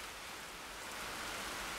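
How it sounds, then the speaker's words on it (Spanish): Rain falls steadily in the Minecraft video game, an even, soft hiss of downpour that swells slightly toward the end, with no speech. "Se ha puesto a nevar. Aquí a llover."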